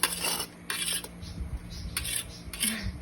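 A grater scrapes coconut flesh in short repeated strokes, bright metallic rasps coming in bursts with brief pauses between them, close and fairly loud.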